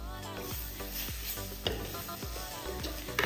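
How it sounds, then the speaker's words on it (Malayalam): Tomato, green chili and curry leaves are stirred briefly in a frying pan, a steady sizzle with a few soft scraping strokes of the spoon and one sharper clink near the end. "ഒരു 2-3 സെക്കൻഡ് ജസ്റ്റ് ഒന്ന് മിക്സ് ചെയ്ത് കൊടുക്കുക"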